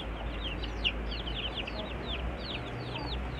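Native village chickens (ayam kampung) on a farm, several hens clucking and chirping repeatedly at moderate distance over a steady low background hum.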